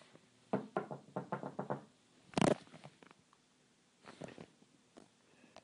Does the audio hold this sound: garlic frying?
no